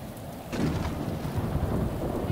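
Thunder and heavy rain in a detective murder-mystery video game: steady rain hiss, then a loud rumbling thunderclap breaks in after about half a second and rolls on over the downpour, with no talking.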